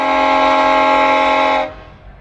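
A freight train horn on the Sand Hills Subdivision near Alliance, sounded while an SD70MAC locomotive passes at the rear, blares as a loud steady chord for about a second and a half, then cuts off, leaving faint rumble.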